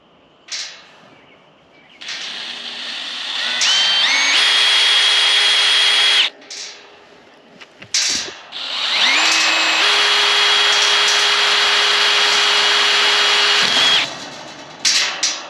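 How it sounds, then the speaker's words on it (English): A power drill with a stepper bit bores holes through a metal bracket while a solar electric gate opener is installed, loud whining bursts that rise in pitch, pause briefly, then run long again, close up. "I'm going to do the holes right in the middle so I can still adjust it side to side"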